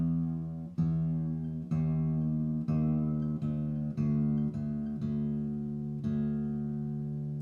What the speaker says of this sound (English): So I'm going to be tuning my string down.